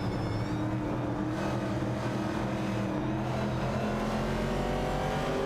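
In a racing video game with a Ford Falcon and a Dodge Challenger, race car engines give a continuous loud drone with steady revving tones layered together, no voices heard.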